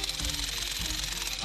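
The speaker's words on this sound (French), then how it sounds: "Avec ce marteau-piqueur," A jackhammer pounds away digging out caves, a loud rapid rattling hammering that runs continuously, with a voice talking over it.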